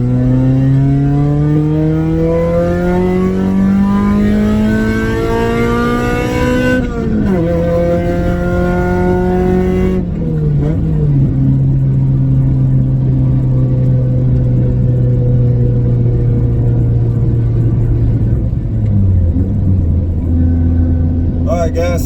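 Honda car engine revving hard through VTEC while driving around a neighborhood, a loud continuous rising and falling engine tone with one sharp gear shift, heard from inside the cabin.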